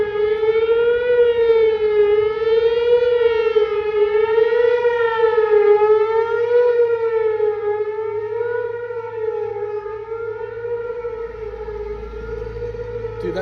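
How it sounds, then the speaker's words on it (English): Civil defense storm siren wailing loud and steady ahead of a storm, its rising and falling tone cycling slowly as the horn rotates, with a low rumble underneath and no talking throughout. "Dude, that's so weird watching the siren move around."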